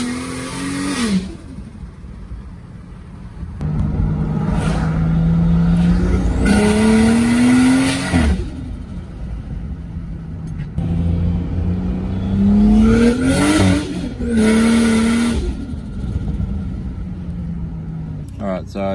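Ford XR6 Turbo engine revving in repeated rising bursts, climbing in pitch, then dropping back before revving again, loud and close, with voices talking in the background between runs.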